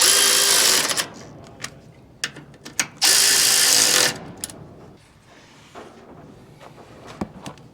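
Ratchet clicking as a bolt is tightened on a Chaser gearbox, loud bursts of rapid mechanical clatter with short pauses, close up, no talking.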